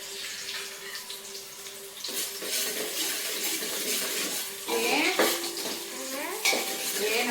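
Onion frying in a pan, stirred with a metal utensil, sizzling quietly under steady scraping and clinks against the pan, with the clatter growing busier toward the end and no talking.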